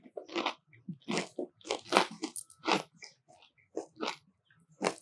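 Crunchy bites of a fried chicken burger being chewed close to the mic, a rapid series of crisp crackling crunches in an uneven rhythm with short pauses between them.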